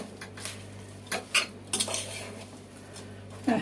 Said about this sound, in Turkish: Ve karıştırıyoruz iç malzememizi.